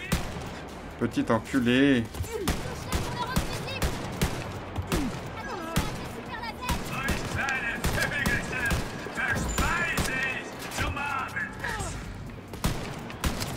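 Repeated gunfire bursts from a character shooting in Wolfenstein: Youngblood, sharp cracks scattered across the scene alongside other game sounds, with someone talking over the shots.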